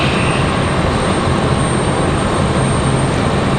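JetBlue Airbus A220 airliner at a stormy Raleigh-Durham airport, a loud continuous broadband engine roar that stays steady throughout, with no voices.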